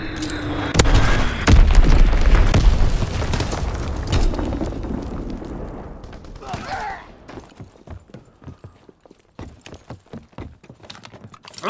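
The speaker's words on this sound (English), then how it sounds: "Dropping Fritz X bomb." Fritz X bombs explode in Call of Duty: WWII on the Gustav Cannon map, a heavy rumbling barrage of deep booms and blasts that fades into scattered crackles and debris thuds.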